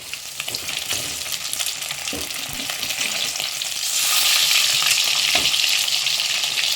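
Fish sizzling in a frying pan over medium heat, a continuous hissing crackle that swells louder partway through, broken by a few soft knocks as the pieces are moved or turned.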